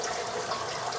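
Water drains steadily from a gravel cleaner used on a tropical fish tank, making a continuous close rushing and trickling wash with no pauses.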